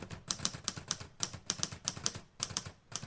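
A typewriter clacks steadily as notes are typed, with quick rhythmic keystrokes in bursts and short pauses, close up and crisp, with no voices.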